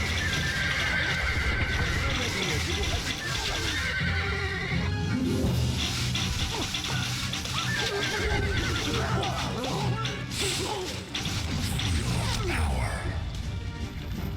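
Cavalry horses in the strategy game Stronghold Crusader neigh and whinny repeatedly over the clatter of hooves and crashing battle sounds, forming a busy, continuous game soundscape.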